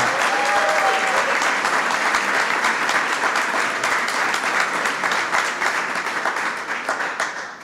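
A White House reception crowd at a Cinco de Mayo event breaks into sustained, loud applause welcoming Karen Pence, with dense clapping that holds steady for several seconds before starting to fade toward the end.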